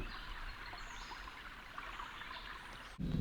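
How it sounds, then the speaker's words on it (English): Water rushes steadily through a mountain drinking-water supply pipe on St. Kitts, a constant broadband hiss and gurgle heard alone, with a sudden louder thump near the end. "Do you hear the water going through the pipe?"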